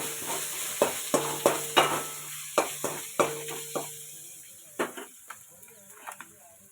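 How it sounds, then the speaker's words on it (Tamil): Ginger garlic paste sizzles steadily in a hot pan while a spoon scrapes and clinks against the metal in regular strokes, close and clear over a constant frying hiss. "பச்சை வாசனை போகிற அளவுக்கு நல்லா கிண்டி விடுங்க."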